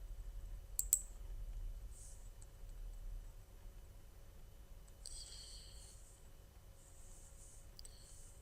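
A computer mouse clicks a few times sharply at the start, followed by faint scattered clicks in a quiet room, with a low hum underneath and no talking.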